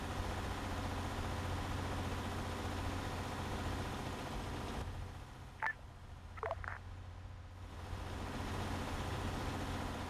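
A vehicle engine idles steadily in Arma 3 as a low continuous drone. It dips briefly midway while a few short, sharp electronic blips sound, then the drone returns at the same level.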